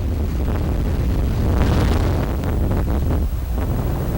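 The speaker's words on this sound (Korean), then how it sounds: "다음 날 하늘은 맑은데 바람은 여전하다." Strong wind buffets the microphone by the sea on a clear morning near a crab boat's harbor, a steady loud roar with rumbling gusts and faint surf beneath, no voices.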